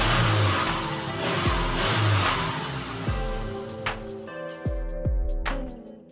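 A Subaru engine idling and revving in a garage, with a loud, rough, throbbing run that gives way to sharp throttle blips and a clattering idle toward the end.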